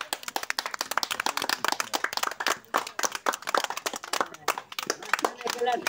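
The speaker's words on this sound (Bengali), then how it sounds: "হাতে তালি দাও" Hands clap in quick irregular bursts during a lively water-clearing party game, mixed with busy overlapping voices and background noise throughout.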